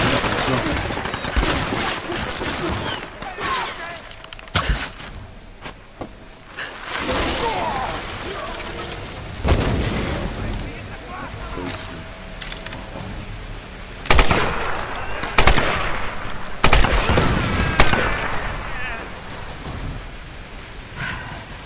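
Video game gunfire cracks out in scattered loud bursts over a rumbling, noisy background, with irregular gaps between volleys.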